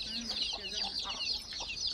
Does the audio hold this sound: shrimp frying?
no